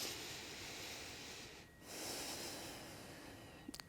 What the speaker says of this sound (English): Okay, you're going to take a breath.